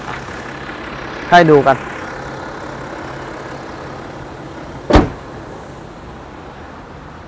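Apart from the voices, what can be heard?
BMW X6 30d diesel engine idling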